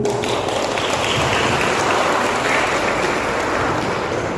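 Dense, continuous clapping from a seminar audience at a university economics faculty, steady and fairly loud with no voices over it.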